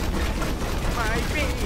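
Turret firing in Overwatch: a continuous rapid rattle of automatic fire running throughout, loud and steady, mixed with game effects and a player speaking over it.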